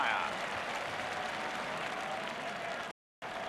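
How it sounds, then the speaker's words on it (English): Stadium crowd at the Czechoslovakia v West Germany European Championship final football match, applauding in a steady, broad wash of clapping and crowd noise that cuts out briefly near the end. "Some applause from Bonhoff"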